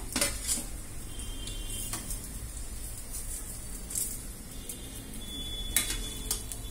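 Fried mirchi bajji lifted out of hot oil onto a plate, faint bubbling under sharp metallic clinks and scrapes of a utensil against the pan, spaced irregularly and close.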